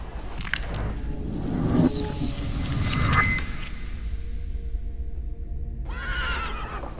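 A horse neighs in the video game The Thaumaturge, first a loud whinny over hooves and a low rumble, then a short second call near the end.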